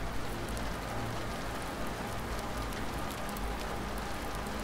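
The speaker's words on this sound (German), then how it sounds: "Das Prasseln von Regen gegen die Fenster vermischte sich mit dem Geräusch" Steady, dense rain patters against windows in an even, continuous hiss with no pauses and no talking.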